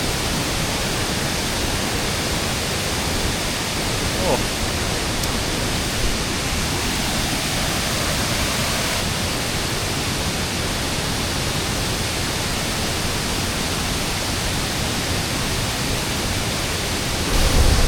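The Yolapa waterfall in Oudomxay, Laos, sends water rushing nearby in a loud, dense roar that stays steady throughout with no voices.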